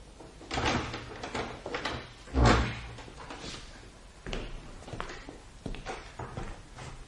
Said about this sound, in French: Nick réussit à ouvrir la porte.